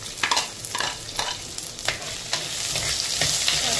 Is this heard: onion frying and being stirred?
yes